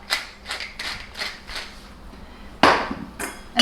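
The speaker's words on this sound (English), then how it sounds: "Maybe a couple of grinds of pepper." A pepper mill grinds pepper for a fish taco seasoning, giving a string of short, rhythmic rasping cranks close by, with one sharper, louder twist toward the end.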